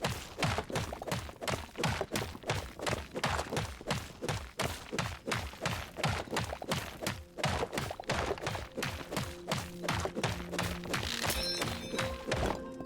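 Rapid rhythmic block-mining hits in the Hytale video game, a long run of regular thunking strikes at close range, joined near the end by sustained tonal game effects.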